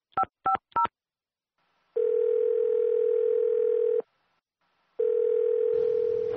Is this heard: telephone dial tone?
yes